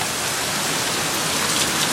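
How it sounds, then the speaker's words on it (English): Torrential Florida downpour, a dense, steady roar of heavy rain pounding surfaces nearby, loud and unbroken with no voices. "at 2:05 we're in a torrential hit, like downpour"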